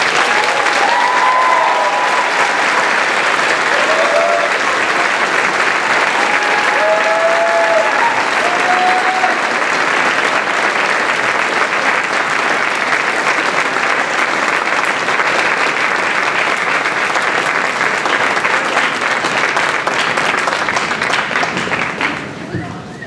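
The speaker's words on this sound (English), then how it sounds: "let's all please give them another well-deserved round of applause" Loud, sustained applause from a large audience at a 2017 school graduation ceremony after diplomas are awarded, steady and dense throughout before tapering off at the very end.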